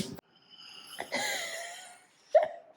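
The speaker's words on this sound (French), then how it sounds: "on entend ma grand-mère qui ronfle dans le couloir en allant se coucher" An elderly woman snores in a hallway on her way to bed. Short, wheezy, snorting breaths come in separate bursts at moderate distance, with one louder snort near the end.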